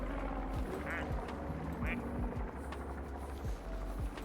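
A video-game duck gives two short quacks over a steady droning engine hum and game noise, with a voice talking over the top.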